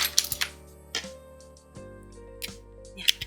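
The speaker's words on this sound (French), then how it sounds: "je vais prendre mes ciseaux" Metal scissors picked up while making a lace crochet bookmark, several sharp metallic clinks and light clatters close by, with brief tinkling rings between them and quiet gaps.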